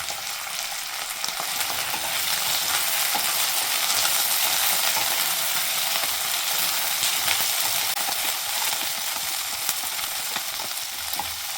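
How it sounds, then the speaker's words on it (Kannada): Masala for a Karnataka-style kheema gravy fries in a pan with a steady, close sizzle, broken by light stirring scrapes throughout. "ಚೆನ್ನಾಗಿ ಫ್ರೈ ಆಗಲಿ ಇದು."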